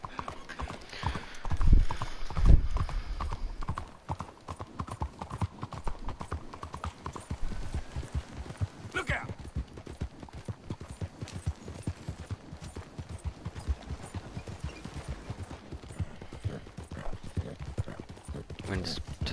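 A horse gallops in Red Dead Redemption II, hooves pounding in a fast continuous rhythm for the whole stretch, with a brief whinny and louder game noise near the start.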